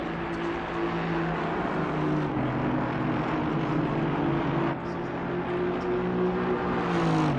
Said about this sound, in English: I love the sound from different cars you hear